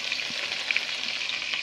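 Donair meat frying in a pan, a close, steady crackling sizzle with no talk.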